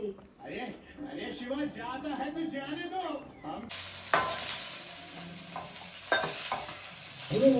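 A voice speaks briefly, then soya chunks crackle and hiss as they fry red in a hot pan, with occasional scraping stirs, close up.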